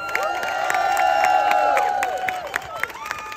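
A crowd at an anti-mandate rally outside a New York courthouse cheers, whoops and shouts in a loud, continuous roar, with scattered claps punctuating the noise.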